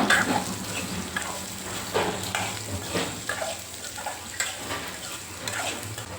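A ladle stirs raw mango pieces in a pan for mango pachadi, giving soft, steady scraping and a quiet sizzle up close, with no voices.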